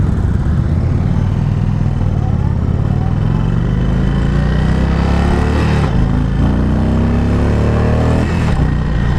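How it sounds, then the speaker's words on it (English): A 2018 Indian Chief Vintage motorcycle, a heavy six-speed cruiser, pulls hard at wide open throttle, its loud, close engine rising steadily in pitch through a gear and continuing to climb without any talk. "Okay, that was wide open throttle."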